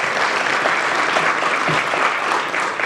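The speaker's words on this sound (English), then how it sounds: "Yes, you can give that a round of applause." An audience applauds loudly and steadily for a few seconds at a conversation event, with full, dense clapping and no clear voices.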